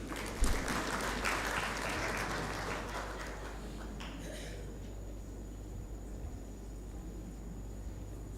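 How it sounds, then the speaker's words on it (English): Applause for the Judicial Service Commission at the AAPSCOMS general assembly, a broad crowd clapping that starts strong and fades to a steady softer patter across the hall. "So Judicial Service Commission, we can give them a round of applause."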